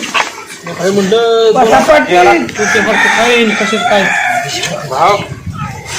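A rooster crows loudly and close by, its call stretched out over several seconds, with voices mixed in.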